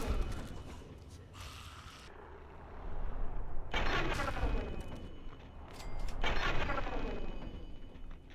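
A Fallout 3 firefight sends out repeated loud bursts of gunfire, several heavy volleys with short quieter gaps between them.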